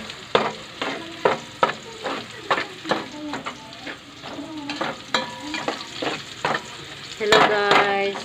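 Ginger frying in a pan for mussels while being stirred, a steady soft sizzle punctuated by rhythmic scraping strokes of a utensil against the pan, close and clear.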